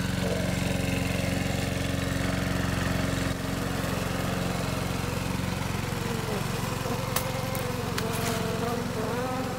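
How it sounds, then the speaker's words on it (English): A lawnmower engine runs in a steady, continuous drone at moderate distance, with a constant low hum throughout and brief faint clicks near the end. "Even the vibrations and carbon dioxide from a lawnmower are interpreted"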